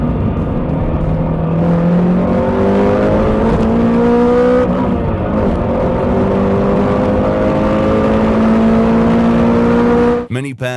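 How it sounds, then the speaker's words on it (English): A Honda Prelude's VTEC engine revs loudly and close, its drone climbing in pitch through sustained pulls, easing back and rising again before cutting off abruptly with a clatter. "that distinctive VTEC engine sound, a signature of Honda's performance-oriented models"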